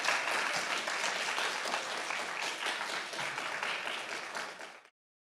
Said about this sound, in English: let's have a round of applause for our teams